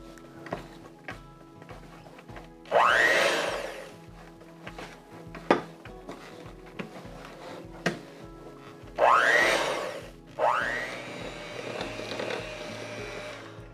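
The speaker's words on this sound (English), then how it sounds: "we're gonna mix those in gently so you don't plume it all out into your house" Stand mixer gently blending ingredients into a thick coconut bar batter, with bursts of whirring motor that rise and stop between soft knocks and clatter in a kitchen.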